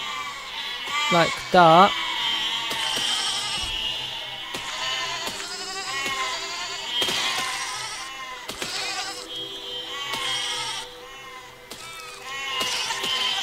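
Sheep bleating in the video game Besiege, several short wavering bleats near the start standing out over ongoing game noise, with someone talking through most of it.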